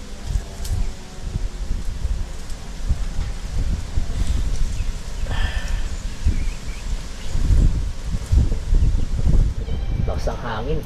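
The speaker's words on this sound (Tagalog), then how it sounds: "Lakas ang hangin." Strong wind gusting outdoors, a low rumbling roar with rustling leaves, rising and falling and swelling stronger near the end, while a person talks over it and faint bird chirps come through.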